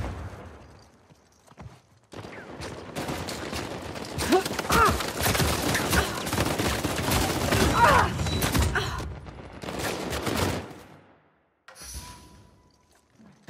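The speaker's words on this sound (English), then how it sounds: "Should probably just follow the gunfire." Gunfire in an Uncharted 4 King of the Hill ranked match, a dense run of loud rapid shots and impacts lasting several seconds, breaking off briefly and returning in a second burst before fading to near silence.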